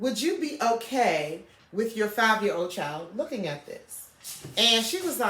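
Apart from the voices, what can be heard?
No distinct noise like a dog, phone or traffic.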